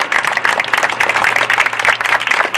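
A crowd applauds steadily at a park ribbon cutting in Hoboken, dense, continuous clapping from many hands at moderate distance, holding an even level throughout with faint murmuring underneath.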